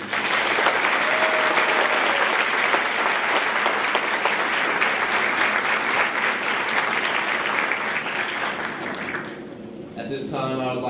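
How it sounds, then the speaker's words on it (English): An audience at a National Honor Society induction ceremony claps in a dense, sustained round of applause that holds steady for several seconds, then thins out near the end. "Please join me in applauding all of our new National Honor Society members."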